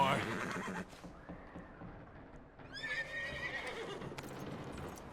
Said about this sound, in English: Calma o cavalo.